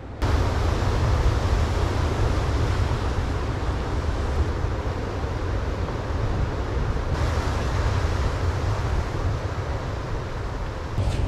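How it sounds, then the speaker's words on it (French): Ocean surf breaks steadily at a surf spot below cliffs, a loud continuous wash of waves mixed with wind noise on the microphone, with no voices. "On voit qu'il y a des vagues."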